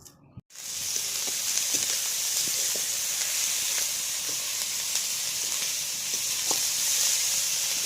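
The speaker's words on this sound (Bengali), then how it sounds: "পরিমাণ মতো লবণ, হলুদ গুঁড়ো দিয়ে ভালোভাবে নাড়াচাড়া করে পটল লতিটাকে ভেজে নিলাম" Chopped pointed gourd stems fry in a hot pan with a constant dense sizzle, broken by occasional scraping stir strokes, starting after a brief pause.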